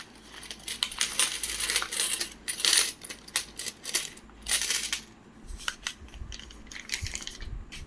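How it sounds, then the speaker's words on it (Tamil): A hundred uncirculated 2022 Kolkata mint five-rupee coins are poured out, giving a close, continuous metallic jingle and clatter in uneven bursts with no talk over it. "5 ரூபா நாணயம், ரெயின் ட்ராப்ஸு, யூஎன்சி காயின்னு. இப்போ தான் கட் பண்ணி போடுறேன்."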